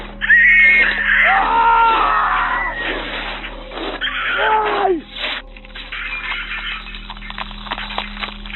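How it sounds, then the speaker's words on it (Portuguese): A man and an intruder scream over a 911 phone call, with two loud bursts of shrill, wavering cries followed by rough, muffled commotion and lower shouts on a thin, band-limited line. "Eu ouvi os gritos ensurdecedores do homem e do intruso."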